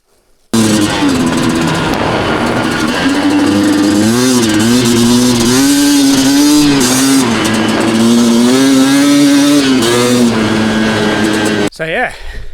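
A new enduro motorcycle's engine runs loudly and steadily up close after being switched to reserve fuel, its pitch rising and falling slightly before cutting off near the end.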